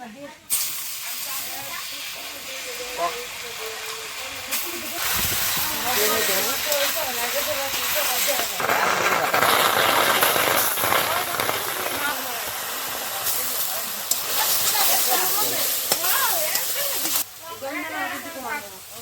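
Field greens hiss and sizzle as they are fried in a little oil with mustard, a loud, continuous steamy hiss that swells and fades, heard under someone talking throughout.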